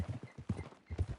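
Horse hooves clip-clop in the Red Dead video game, a quick uneven rhythm of several close, moderately loud hoof strikes with no talk over them.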